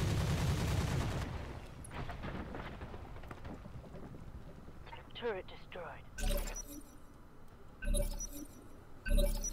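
Gunfire aimed at turrets in the video game Roguepoint, sounding as a few sharp, loud blasts spaced a second or two apart over a busy game soundscape, with a voice speaking now and then.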